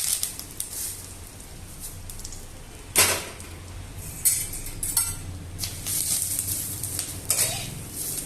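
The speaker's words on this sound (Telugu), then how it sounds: "సిమ్లోనే వేయించుకోవాలి" Curry leaves fry in a spoonful of oil over a low flame for homemade curry powder, giving a soft steady sizzle broken by sharp crackling bursts and the clink and scrape of a spoon against the pan, with no talking.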